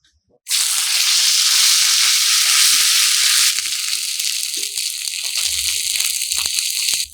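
Ginger and cumin paste hits hot oil with an abrupt, loud hiss that settles into a steady, close sizzle for several seconds, broken by faint clinks of a utensil. No one talks.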